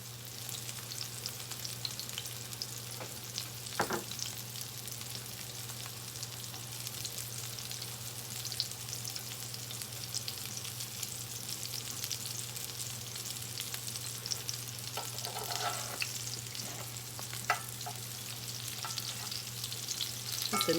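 Salmon patties fry in a pan with a continuous soft sizzle and occasional small pops, fairly quiet and steady, a low electrical hum running underneath.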